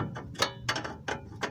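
A torque wrench ratchets in short bursts while tightening front suspension bolts on an all-wheel-drive Chevy Blazer, with four or five quick clicking strokes close by and no talk.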